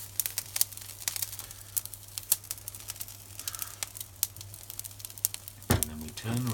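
Salt crackling and popping on suckling pig skin roasting on a Kamado grill rotisserie, sharp irregular close snaps over a low steady hum, with a short burst of voice near the end.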